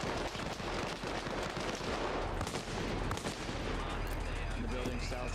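AK rifle fire in a video game comes as steady, dense crackling bursts under a constant wash of game noise and ambience, close and loud throughout.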